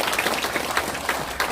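A crowd at a Korean town-hall meeting with farmers hit by storm damage applauds warmly, a thick, continuous wash of many hands clapping at a steady level, with no speech on top.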